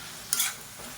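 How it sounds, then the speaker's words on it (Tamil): Vegetables with spice powder are sautéed in a pan for tiffin sambar. A single quick stirring scrape with a short sizzle breaks the quiet, then only faint frying hiss remains. "இதையும் சேர்த்து நல்லா வதக்கி விட்டுக்கலாம்."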